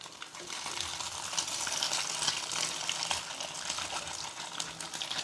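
Slices of luncheon meat fry in hot oil with a dense, steady crackling sizzle at moderate level, continuous throughout with no talking.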